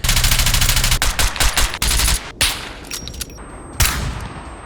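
Rapid bursts of automatic gunfire in the video game SCUM rattle loudly, broken by short pauses and single shots, ending with a few scattered reports.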